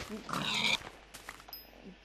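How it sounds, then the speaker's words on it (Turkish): A Minecraft pig grunts and oinks in short bursts, followed by quieter shuffling sounds and a brief high electronic tone. "Domuz ittirme beni domuz."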